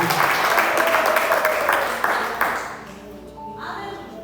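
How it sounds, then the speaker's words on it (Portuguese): Church congregation clapping and applauding together during a worship service, a dense steady wash of hands that fades after a few seconds, followed by quieter room tone and faint voices. "E as palmas aplaudem e glorificam o nome de Deus."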